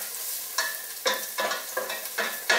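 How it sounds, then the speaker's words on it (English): Chopped garlic sizzles in a hot, smoking pan while being stirred, a close steady fry broken by about six regular scraping bursts from the utensil. "I'm going to add a little bit of garlic"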